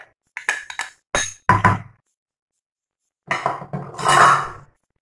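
A metal spoon clatters and scrapes against a dish several times as canned tuna is added and broken up for a tuna and cherry tomato quiche, with close, sharp knocks followed by a longer scraping burst.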